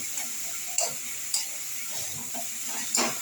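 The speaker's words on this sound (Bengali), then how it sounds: "এবার ক্যাপসিকামটা দিয়ে দিলাম" Capsicum tossed into a hot pan for chilli paneer, giving a steady frying sizzle with a few sharp clicks and scrapes of a utensil against the pan, close and continuous.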